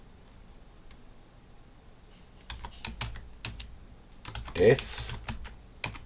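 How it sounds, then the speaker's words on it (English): Clicks of typing on a computer keyboard while entering data into a LibreOffice spreadsheet, quiet for the first couple of seconds and then in irregular bursts of close keystrokes under a few spoken words. "I'm going to type in here"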